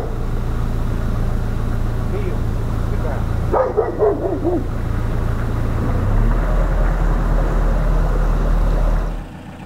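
A dog by a canal boat on the Llangollen Canal gives a short burst of yips and barks midway, heard under people talking with a steady engine hum in the background.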